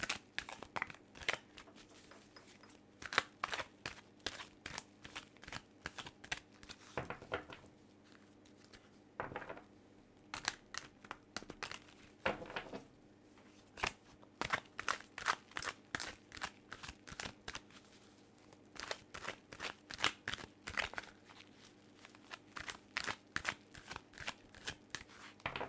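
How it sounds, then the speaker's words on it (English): Tarot cards shuffled repeatedly by hand, a steady run of close, crisp riffling and flicking bursts with short pauses between passes, no voice over it. "I'm going to shuffle this deck several times"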